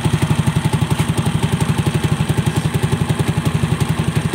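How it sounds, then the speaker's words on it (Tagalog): A pushrod-type motorcycle engine idles steadily during an air/fuel screw adjustment, a close, loud, even chugging pulse with mechanical clatter throughout and no talk. "pakikinggan natin ang response ng makina kung lumakas ba yung RPM niya o bumagsak ba"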